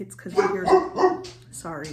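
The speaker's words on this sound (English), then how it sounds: "If you hear my dog woofing in the background" A dog barks a few times in the background, partly under a voice speaking in a home where she is crocheting a tote bag.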